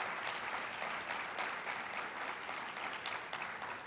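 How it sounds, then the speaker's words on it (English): Audience applause for an association's past president at a realtors' annual presentation, a dense, steady clapping from a large crowd that holds evenly throughout without any voices. "give the biggest round of applause for our immediate past"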